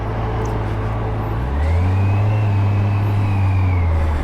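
The engine of a Kawasaki Versys 1000 motorcycle with electronic drive-by-wire throttle hums steadily up close, then swells into a louder, rising rev that holds and gradually falls.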